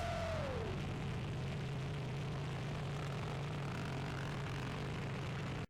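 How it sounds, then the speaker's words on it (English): Small airplane idles before takeoff, a steady droning propeller engine hum close by and constant throughout, with a brief descending whine at the start and no talking. "They're in the plane, getting ready for takeoff."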